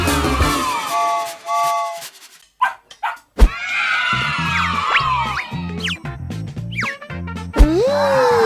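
Yips and barks ring out amid rhythmic mechanical whirring and scraping, with squeaky electronic-sounding tones between them.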